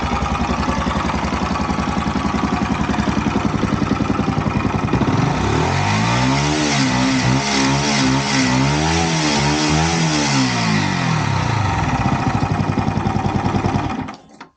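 A Yamaha YZF R125 motorcycle engine runs close by with a steady buzzing idle, then revs up and down in repeated swells before settling and cutting off at the end.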